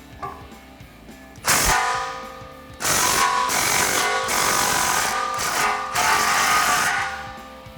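A 15 mm socket wrench tightens an exhaust clamp on a Jeep Gladiator's Borla ATAK dual exhaust, with sharp metallic bursts of ratcheting and clanking that come in three loud spells separated by brief pauses.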